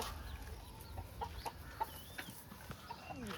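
Chickens at a poultry business give short, scattered clucks, faint and somewhat distant against a quiet, low background hum.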